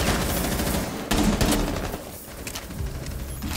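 Rapid gunfire in the video game Rainbow Six Siege, a dense, loud burst of shots filling most of the moment with a brief dip partway through, heard alone with no talking.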